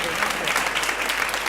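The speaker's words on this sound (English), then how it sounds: "A round of applause for him, please." A room of shareholders claps for the chairman of Iberdrola, Ignacio Sánchez Galán, a dense burst of applause at a steady, fairly loud level across the short moment.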